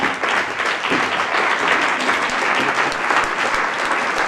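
A theatre audience in a library applauds steadily, dense clapping filling the room at an even level from start to finish.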